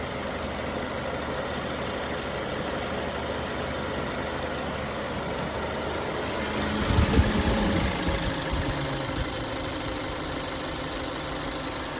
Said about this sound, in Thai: เสียงเครื่องนิ่มนะครับผมฟังดีครับ